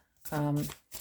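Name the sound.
shuffling a deck of oracle cards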